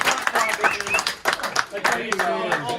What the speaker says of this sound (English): Round of applause for Cruising